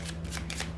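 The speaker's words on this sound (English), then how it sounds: "So I shuffle the cards" Brisk riffle of a deck of playing cards being shuffled for a card trick, a fast rippling flutter in several quick bursts, close and fairly quiet over a low steady hum.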